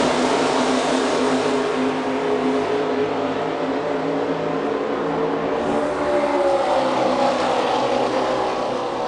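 NASCAR Sprint Cup stock cars roar around the track at the Coke Zero 400, a steady, dense engine drone with rising pitch sweeps as the pack passes, heard from a distance without commentary.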